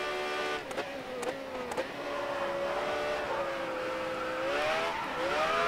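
Race car engine in the Grid Autosport racing game revving and holding a steady high pitch that sweeps down then climbs again, with a few brief sharp clicks early on, heard alone.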